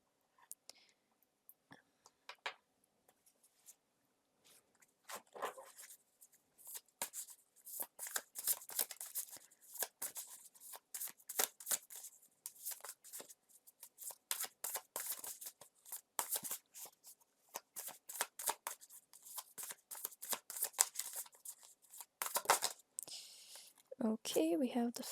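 Tarot cards being shuffled close up: soft, quick riffling flicks and papery slides in irregular bursts, with brief pauses, faint taps and a quiet voice near the end.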